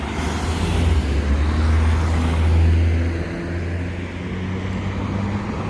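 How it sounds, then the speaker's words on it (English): Cars on a city street in Amman rumble past one after another, a steady low engine drone swelling and easing as vehicles slow over traffic calming, fairly close with no talking. "cars come zooming up to these traffic calming and then have to slow"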